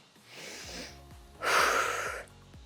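Heavy breathing during rest in an intense interval workout: a softer inhale, then a louder, forceful exhale, close and unaccompanied by speech.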